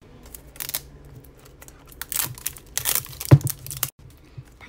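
A Poopsie Slime Surprise toy package being opened with scissors: sparse crinkling plastic, snips and tearing rustles in short bursts, close and fairly quiet, no talking.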